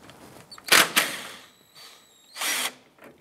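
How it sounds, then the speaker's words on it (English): Power tool whirring in short bursts as a bolt is removed with a 10 millimetre socket from the front bumper area of a 2005-2009 Subaru Outback, with two main runs and clicks between. "Use a 10 millimeter socket, go ahead and remove this bolt."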